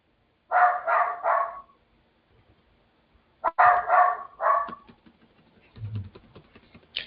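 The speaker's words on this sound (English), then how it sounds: "Sorry guys, the dog may be annoying to you" A pet dog at home barks in two close, loud bursts of three or four sharp barks each, with faint tapping and a short low rumble between and after.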